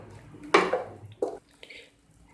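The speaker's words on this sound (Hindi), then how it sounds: "आधा कप पानी मैं इसमें डाल रही हूँ" Half a cup of water splashes into a pot of cooked, softened falsa berries on a lit stove: a close, sharp pour burst followed by a shorter second splash and a faint drip, no talking.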